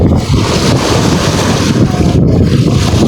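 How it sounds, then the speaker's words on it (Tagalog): Strong wind roars over a seaside rocky fishing spot, a loud continuous rumbling gust buffeting the microphone throughout with no pauses. "Sobrang lakas ng hangin."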